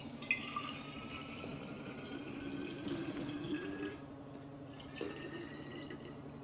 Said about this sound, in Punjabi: ਚਲ ਬੋਤਲ ਭਰ ਗਈ ਮੰਮੀ ਨੇ